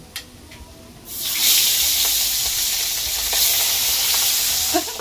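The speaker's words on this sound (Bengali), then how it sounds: "এবার বাকি যে দুটো মাছ আছে ও দুটোকে ভেজে নেব।" Pabda fish fry in hot oil with a loud, close sizzle that bursts in suddenly after a quiet second, holding steady with faint clicks and spatters throughout.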